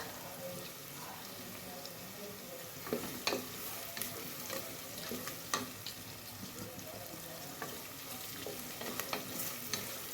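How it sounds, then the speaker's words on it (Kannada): Onions fry in oil in a pan for a dill-leaf pulao, a faint, steady sizzle with occasional soft crackles and stirring scrapes heard close up, no voices. "ಈಗ ಎಣ್ಣೆಯಾಗ ಉಳ್ಳಾಗಡ್ಡಿ ಫ್ರೈ ಮಾಡ್ಕೋಬೇಕು"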